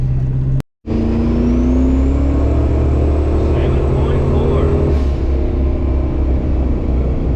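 A twin-turbo Dodge Dakota R/T pulls hard in third gear with a loud, close engine drone that rises steadily in pitch. After a brief dropout it keeps climbing for several seconds, then eases off and the engine settles to a lower rumble.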